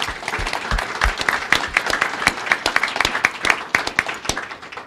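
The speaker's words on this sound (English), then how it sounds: "A round of applause," Audience applause welcoming Dr. Clyde Yancey, a professor of medicine at Northwestern Medicine, as guest speaker: steady, dense clapping from a sizable crowd, with sharp individual claps popping out throughout.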